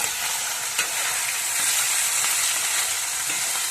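Live singi fish frying in hot oil with salt and turmeric, a loud, steady crackling sizzle with scattered sharp pops and an occasional stir, no voices.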